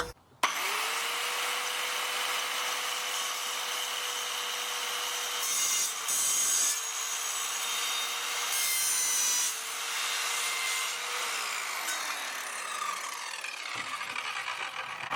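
An Evolution R185CCSX multi-material circular saw on its track cuts through wood studded with screws, a loud, close, steady whine that dips briefly where the blade hits metal, then spins down and fades.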